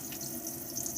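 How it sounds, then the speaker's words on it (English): Water runs steadily from opened taps inside an Adria 670 motorhome during a drain-down, a faint, even hiss and trickle with no talking. "you still open up all of your taps like so, because that will also help relieve the pressure"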